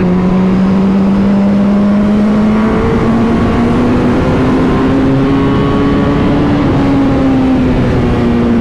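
First-generation Suzuki Hayabusa motorcycle engine running loud and close, a steady droning tone that climbs gradually in pitch as revs rise, with no talk.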